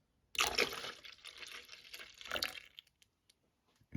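Whole milk pours into a pot of hominy corn porridge in a close, liquid splash at the start, fades into a trickle, then gives a second brief splash before quiet drips.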